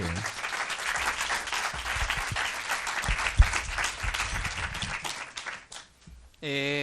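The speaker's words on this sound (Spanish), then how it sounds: "aplauso, trátamelo bien" An audience claps steadily at a festival comic-book presentation, with dense, continuous applause that fades near the end before a voice begins speaking.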